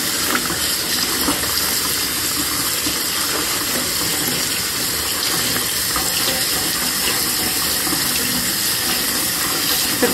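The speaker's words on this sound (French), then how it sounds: "je rince vraiment partout sur le morceau de tissu" Dyed fabric rinsed under running tap water, a constant loud splashing rush that fills the whole stretch without a break, close by and unaccompanied by talk.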